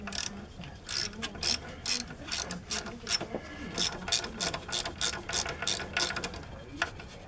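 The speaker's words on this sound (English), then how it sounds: "We'll just screw in the grease fitting." A ratchet turns a grease fitting into the upper ball joint on a 2007 Chevrolet Silverado or Avalanche, giving a close, rapid series of clicking pawl strokes in repeated short bursts, loud and steady throughout.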